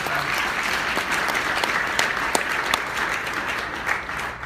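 An audience at a Rain International business talk applauding themselves: steady, moderately loud crowd clapping with a few sharper individual claps standing out, sustained throughout and tapering slightly at the end.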